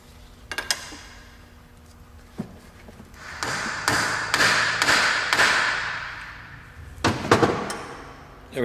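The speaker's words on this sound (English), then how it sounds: "I'm just going to take this over to the vise and see if I can knock it out." Sharp taps and thuds from knocking a plastic retainer out of a part held in a vise during a 2001 GMC Sonoma 2.2L engine replacement, a few isolated knocks, then a run of quick hits and a final cluster.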